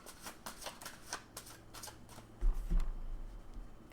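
Oracle cards being shuffled up close in a series of quick riffling bursts, followed by a few soft thumps as the deck is handled.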